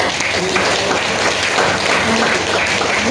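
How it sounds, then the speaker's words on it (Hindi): Audience applause at a skin care product presentation, continuous loud clapping from a room of people, with faint voices underneath. "तालियां बजा सकते हैं इनके लिए।"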